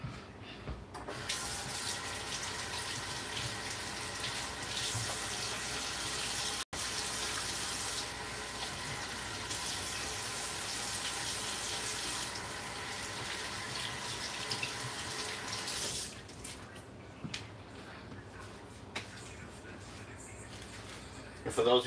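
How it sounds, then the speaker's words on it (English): A kitchen tap runs steadily for about fifteen seconds while hands are washed, a loud even gush with faint talk beneath, then the flow stops and quieter handling sounds follow. "I gotta wash my hands because I gotta handle the other bacon."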